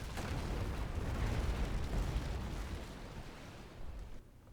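Bow cannon fire from a sailing warship in the naval combat game Naval Action: a deep, rumbling roar of cannon blasts that slowly fades, loud at first and then trailing off, with no voices.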